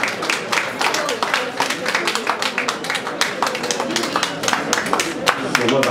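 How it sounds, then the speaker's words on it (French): A crowd applauds at a ceremony where diplomatic credentials are presented to President Emmanuel. The clapping is dense and continuous, fairly loud and close, holding steady the whole time. "C'est votre acclamation."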